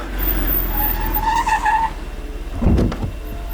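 A car in the Hindi film Shaadi Mein Zaroor Aana lurches into a short, sharp tire skid near the end, after a low engine rumble with a tonal musical hum over it.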